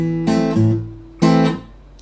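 Acoustic guitar Travis picking: two strummed chord attacks about a second apart, each preceded and followed by ringing bass notes, close and clean with no talking.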